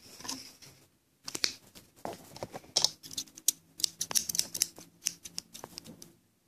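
Cutting material for a homemade pen, heard as a run of sharp, close snipping and clicking bursts in quick irregular clusters after a short quiet gap, with no talking.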